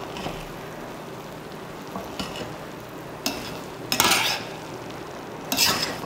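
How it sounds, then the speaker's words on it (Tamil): Soya biryani is stirred in a cooking pot just after the stove is switched off, with a few scattered scraping and clinking bursts of a spoon against the pot over a quiet background, no talking. "இப்போ ஓப்பன் பண்ணி பார்க்கலாம். இப்போ கிளறி விட்டுக்கலாம்."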